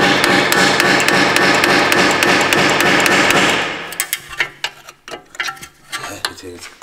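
Rapid, loud metallic hammer blows strike a stuck wheel bearing on a high-mileage Audi A6, a fast regular pounding for several seconds, then scattered clanks and taps of metal parts close by.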